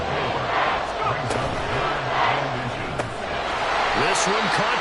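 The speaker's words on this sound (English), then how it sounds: "This crowd will try to force a false start here." Football stadium crowd roaring loudly and steadily on a third-and-inches play, trying to force a false start, with a broadcast announcer's voice carried over the noise.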